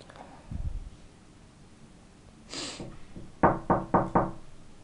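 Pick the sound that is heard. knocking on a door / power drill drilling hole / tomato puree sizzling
knocking on a door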